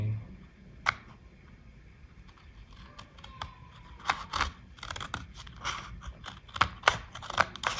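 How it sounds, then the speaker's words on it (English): Scissors cut through a packaging loop along a dotted line on a SanDisk iXpand Flash Drive Go box, giving scattered sharp snips and crinkly plastic crunches, close and fairly quiet. "cut it as indicated by the dotted line"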